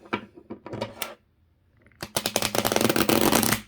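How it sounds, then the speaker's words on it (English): Tarot cards from the Empyrean deck, waterproof and borderless, riffle shuffled by hand: a few soft ruffling bursts, a brief pause, then a louder dense riffle of many rapid card flicks close by. "As far as shuffling goes, I'm a riffle shuffler"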